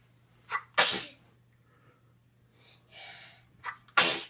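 Two sharp sneezes about three seconds apart, each preceded by a short inhaled catch, loud and close in an otherwise quiet room.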